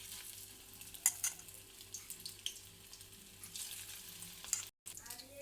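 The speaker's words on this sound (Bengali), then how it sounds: "কড়ার তেলটাও গরম হয়ে গেছে। আমি দিয়ে দিচ্ছি একে একে সেই বড়াগুলো।" Small prawn fritters (chingri pakora) frying in hot oil in a kadai, a soft continuous sizzle with a few brief clicks and crackles, fairly quiet and close, over a low steady hum, briefly cut out near the end.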